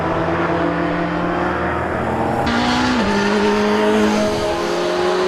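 A GT race car engine at Donington Park roars loudly and continuously, its pitch shifting as it works through gears, with a brief tire squeal.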